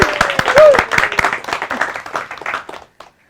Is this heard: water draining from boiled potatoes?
no